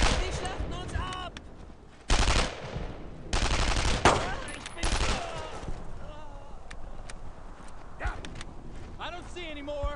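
Machine gun covering fire from a World War II squad battle in the Brothers in Arms game: heavy bursts of automatic gunfire come in loud blocks, mixed with shouted voices and battle noise.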